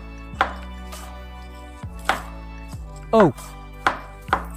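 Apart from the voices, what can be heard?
knife chopping apple into cubes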